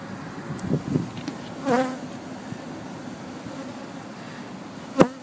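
Honeybees buzzing steadily around an opened hive, close, with a few louder passes of individual bees and a sharp knock near the end.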